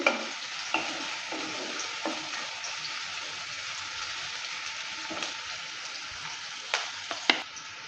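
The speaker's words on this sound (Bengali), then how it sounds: "পেঁয়াজটা দেওয়ার পর ভালো করে নেড়ে চেড়ে নিচ্ছে" Chopped onion fries in hot refined oil for veg chowmein, a steady close sizzle broken by occasional scraping knocks as the pan is stirred, with no talking.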